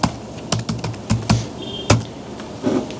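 Code being typed on a computer keyboard, a short run of distinct, fairly loud key taps at an uneven pace, close and alone with no talk.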